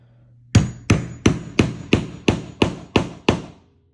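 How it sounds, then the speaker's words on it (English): A hammer strikes a metal snap to set it onto a sewn skirt, nine sharp, evenly spaced whacks ringing out close and loud with no talking. "I'm going to take this piece and my hammer"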